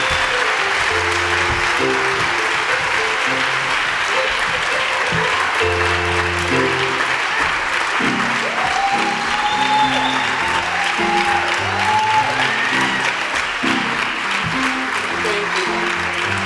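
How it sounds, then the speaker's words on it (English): Audience at an MLK Unity Day event applauding a speaker's welcome, sustained steady clapping from a large crowd that stays loud and even, with a voice speaking over it. "let's give her a round of applause"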